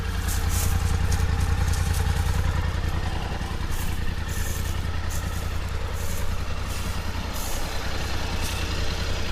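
A stock-muffler Polaris Sportsman HighLifter ATV engine runs steadily up close, a deep, even rumble that holds at a constant idle for the full stretch with no voices.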